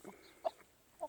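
Jersey Giant and Cochin hens give a few soft, scattered clucks in a quiet farmyard, three short bursts spread over a brief moment.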